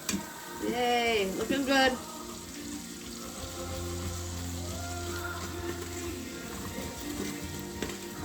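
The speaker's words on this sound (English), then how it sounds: "Now I'm swirling around the bottom with the onion." Onion pieces are swirled around the hot bottom of an Instant Pot pressure cooker on sauté, giving a steady soft sizzle and faint scraping throughout, while a voice speaks briefly near the start.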